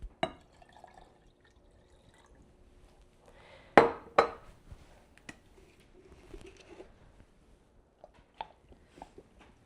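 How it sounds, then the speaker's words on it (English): A little water is poured into a glass kombucha jar in a quiet homestead kitchen in Alaska. Faint trickles and drips mix with a few sharp glass clinks and knocks, spaced out over a near-silent room. "I'm just gonna add a little water."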